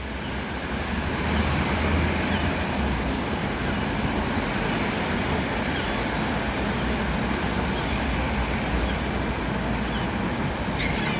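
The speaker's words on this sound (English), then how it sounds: "It is, of course, the Stagecoach Distance Scania Enviro 400 that Stagecoach West Gloucester Depot have" A Stagecoach West Scania Enviro 400 double-decker bus rumbles past on a Gloucester street, its steady, loud engine and road noise filling the scene continuously, with no talk.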